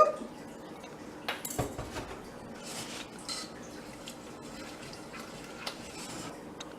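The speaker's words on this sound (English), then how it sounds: "we're going to mix in 2 tablespoons of cold milk" Cold milk is mixed into beer cheese dip in a pot with soft scraping and clinking of a utensil against the pot, a few light knocks early on and then a quieter, steady stirring hush.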